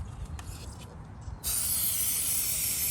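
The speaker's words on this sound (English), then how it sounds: "So I'm going to spray some 3M spray adhesive." A quiet rustle gives way to a loud, steady hiss from a can of 3M spray adhesive, held continuously for over a second.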